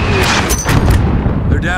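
Enemy soldiers firing in Modern Warfare, loud close bursts of gunfire and booming shots mixed with battlefield noise and shouted voices.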